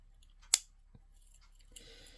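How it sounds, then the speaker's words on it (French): Small scissors on a Victorinox Alox Swiss Army knife make a single sharp metallic snip, then a faint click and a light scraping rattle, close and quiet. "Les ciseaux."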